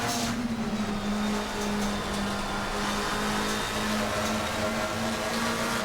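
A 2023 McLaren 720S EVO race car in the Assetto Corsa Competizione racing game laps Silverstone, its engine holding a loud, steady droning tone with slight pitch shifts and no talk over it.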